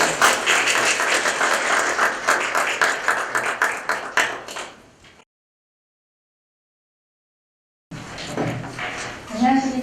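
An audience at a workplace-innovation forum applauds to welcome a presenter. The clapping is moderately loud for about five seconds, then stops abruptly into silence before room sound and a voice return.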